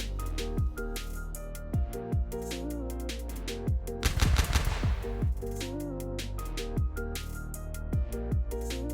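Stock HK rifle firing full-auto sprays in Escape From Tarkov with 5.56 ammo: short bursts of rapid shots repeat every second or so, with one denser, louder spray midway, over a steady tonal backing.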